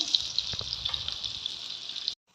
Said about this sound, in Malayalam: മീനിപ്പോൾ ഏകദേശം ഫ്രൈ ആയിട്ടുണ്ട്